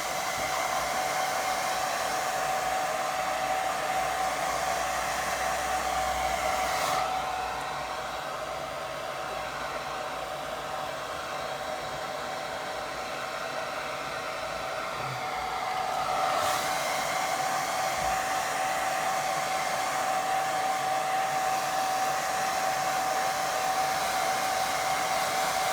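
Hair dryer blowing on a watercolour painting, a steady loud whirring rush that drops to a softer setting midway for several seconds, then returns to full strength, with no talking.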